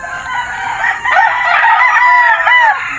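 Roosters crow loudly and chickens cluck in a poultry yard during a farm visit, several overlapping calls rising and falling close by with no one talking.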